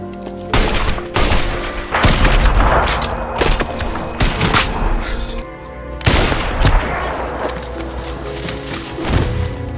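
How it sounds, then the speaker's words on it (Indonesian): Gunfire in a film shootout beside a car, with sharp loud shots arriving in irregular bursts and single cracks over several seconds, mixed with impacts and background score. "Matt berhasil menembak Ray tepat saat akan masuk ke mobil"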